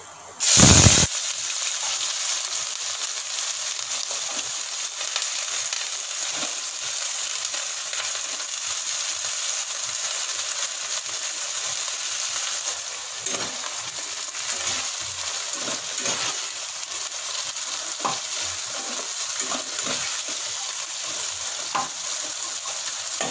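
Carrots and beans tossed into a hot pan with oil for fried rice: a sharp burst of sizzle as they hit, then a continuous loud frying hiss with occasional stirring scrapes and taps, close and without talk.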